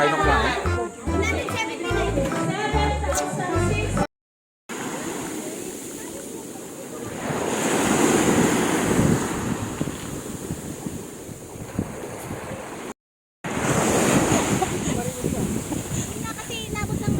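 Ocean waves break on a beach in Zambales, swelling and washing in under gusty wind buffeting the microphone, while people talk and children play nearby; two short silent gaps cut the recording.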